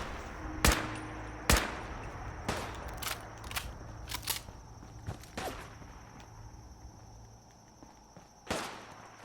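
An enemy trapper in Fallout 4, Far Harbor, fires scattered gunshots, sharp separate cracks at uneven intervals: a pair early, a quick cluster in the middle and one more near the end, over a faint background.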